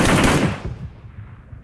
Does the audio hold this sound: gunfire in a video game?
yes